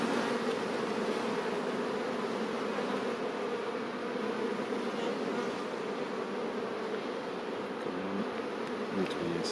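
Agitated honeybee colony swarming around an opened hive during an inspection, a dense steady buzz close to the ear that holds even throughout, with no speech.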